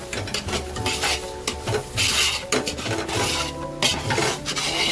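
Cashews, almonds, raisins and charoli frying in ghee, with a steady sizzle under repeated stirring and scraping of a spoon against the pan and occasional metal clinks, close and fairly loud, no talking.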